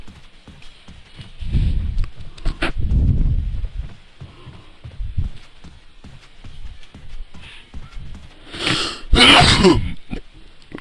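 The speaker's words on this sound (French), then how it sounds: "Veuillez m'excuser d'avoir éternué." A person's sneeze during French-language gaming commentary: shuffling and breathy noises build up, then one sharp, loud, close sneeze bursts out near the end with little talking.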